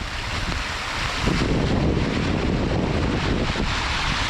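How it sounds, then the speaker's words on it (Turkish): A mountain stream swollen with snowmelt rushes steadily and loudly nearby, a dense broadband wash with wind buffeting the microphone and no speech. "Kar suları eriyor. Dere suyu da bayağı güzel akıyor."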